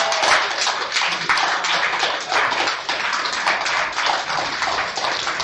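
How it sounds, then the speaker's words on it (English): An audience claps and cheers in celebration at a poetry event honoring West Virginia's poet laureate, a dense, steady wash of many hands continuing without letup and with no voices speaking over it. "Can we get everybody to clap and cheer and celebrate Mark?"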